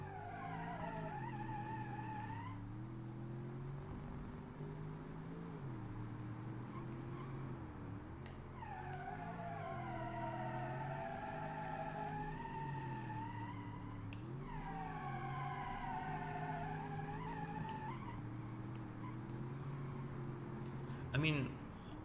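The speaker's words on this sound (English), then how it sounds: "there's a lot of wheel spin" A car in a racing video game revs hard with its wheels spinning, the engine pitch sweeping up and down in repeated surges with a squealing, skidding edge, steady and close throughout.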